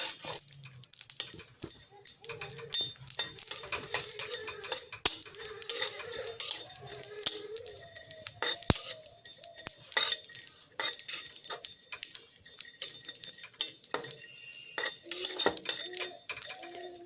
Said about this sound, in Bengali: নাড়াচাড়া করে আমি ভালো করে ভেজে নেব।